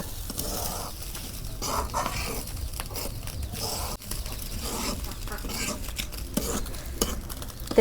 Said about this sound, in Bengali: চালগুনা তেল দিয়ে আমি ভালো করে ভাইজা নিতেছি একদম সুন্দর করে ভাজা নেব